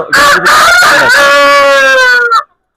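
Large, mature breeding roosters crow loud and close in one long sustained call of about two and a half seconds that trails off into silence.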